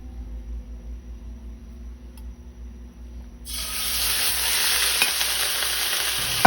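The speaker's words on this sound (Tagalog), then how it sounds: "At atin na igisa ang karne ng baka hanggang sa magbago ang kulay." Beef dropped into hot cooking oil bursts into a loud, steady sizzle partway through, after a quieter stretch of low kitchen hum, with spoon stirring noises and a close, hissing texture filling the rest.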